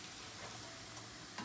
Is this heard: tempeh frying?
yes